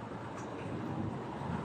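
A steady, faint rumbling drone of a passing LRT light rail train in the Philippines is heard from a distance, with no clear speech over it.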